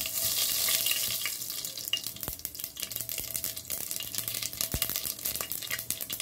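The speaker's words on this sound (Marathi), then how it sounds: "तेल छानसं तापलेलं आहे। आता आपण प्रथमतः मोहरी टाकून देऊया।" Mustard seeds crackling in hot oil, a loud hiss at first giving way to rapid, scattered sharp pops and crackles close by.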